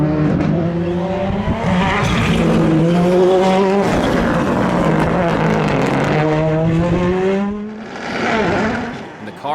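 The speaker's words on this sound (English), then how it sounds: "our McLaughlin backs his Fiesta R5 off the trailer and blasts through stage 1" Ford Fiesta R5 rally car blasting through a stage at the Shackleton winter rally in Northern Ireland, a loud close engine rising and falling through gear changes with pops and a brief tire squeal, fading toward the end.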